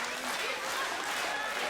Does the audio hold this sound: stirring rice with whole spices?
no